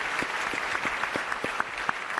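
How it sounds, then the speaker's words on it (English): Applause from a forum audience, a continuous wash of many people clapping with a few sharper individual claps standing out near the front. "You should give yourself a round of applause, because all of your stories is important."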